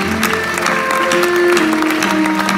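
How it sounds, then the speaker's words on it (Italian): Audience applause in a studio show, a continuous clapping wash blended with sustained musical tones playing underneath, steady and loud across the short stretch. "qui voglio l'applauso patetico, prego"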